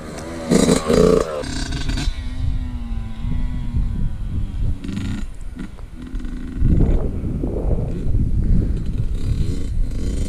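A Yamaha YZ65 dirt bike on a track, its two-stroke engine buzzing and revving up and down, with a rising surge of throttle later on. A man calls out over it at times.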